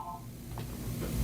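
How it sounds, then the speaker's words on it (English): A short electronic phone tone sounds briefly at the start, then gives way to a steady low background rumble with no one speaking. "No, that was my phone."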